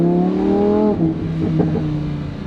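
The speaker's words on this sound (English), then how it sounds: "Now I'm driving the rear-wheel drive Huracan." A 2020 Lamborghini Huracan EVO rear-wheel drive revs loudly up close: a steady, strong engine tone holds for about a second, then dips and rises again in short surges.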